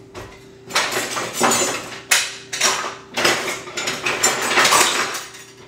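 Kitchen utensils clatter and scrape as someone rummages for a spoon or ladle, with bursts of metallic clinking and knocking that come in several uneven waves, close by and fairly loud, with no talking.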